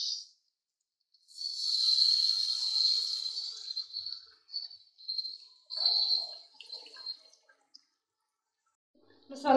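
Bombay biryani spice mixed in water pours and splashes into a pot of chana pulao in several bursts, with hissing, sizzling texture between pours and a brief clatter at the end.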